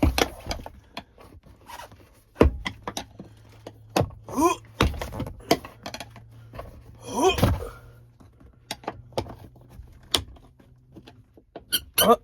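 Car seat hinges being pried up inside a drift car build give a series of sharp, close squeaks and creaks, some drawn out and wavering, scattered irregularly among clicks and scrapes.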